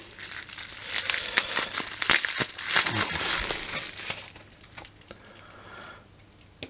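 Plastic packaging crinkles and tears close by as new capacitors are unwrapped for a power supply module build, with busy rustling that peaks midway and then tapers off to a few faint crackles.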